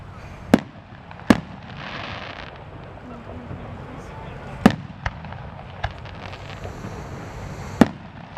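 Fireworks burst at the Lancaster Hot Air Balloon Fest with sharp, booming reports spaced a few seconds apart over a steady outdoor murmur, some near and loud, others fainter and farther off.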